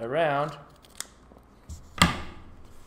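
Scissors snip through kinesio tape in a few quick, close cuts, with rustling between them and a brief voice at the start.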